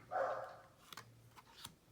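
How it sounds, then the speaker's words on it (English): A dog barks a few times in the background of an indoor space, faint and distant, with short sharp yips spaced apart. "my dog is barking in the background"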